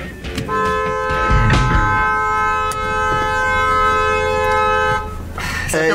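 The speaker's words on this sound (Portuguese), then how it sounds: "Buzina aí." A car horn honks on arrival at a house, with a sustained, loud tone lasting several seconds over engine and street noise.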